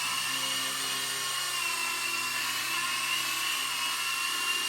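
A remote-control model of NASA's Ingenuity helicopter runs close by after being switched on, giving a steady high-pitched electric whine and rotor buzz that holds even and loud throughout.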